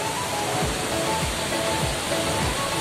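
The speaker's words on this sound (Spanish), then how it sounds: "Esta hermosa cascada" Pita River waterfall near Sangolquí, Ecuador, pouring in a steady, dense broadband roar, close and loud throughout without a break.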